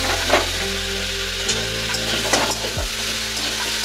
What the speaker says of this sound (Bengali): তো ঢাকনাটা আমি খুলে একটু নাড়িয়ে নেব